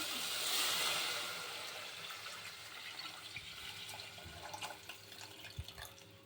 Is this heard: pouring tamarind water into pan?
yes